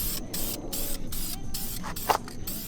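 Gloss clear coat hisses from a spray can onto a Camaro's brake calipers in short repeated bursts, each spray separated by brief pauses, close and fairly quiet.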